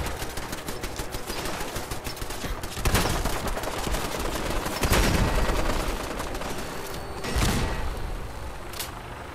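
Gunfire in Fallout 4, a shotgun blasting in bursts around 3, 5 and 7.5 seconds over a constant din of combat and mechanical noise, fairly loud throughout.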